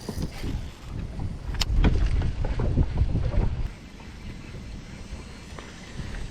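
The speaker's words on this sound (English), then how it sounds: "right now it's windy" Gusty wind buffets the microphone in low rumbling bursts while bass fishing on brackish water among lily pads, strongest in the middle and easing toward the end, with water noise faintly beneath.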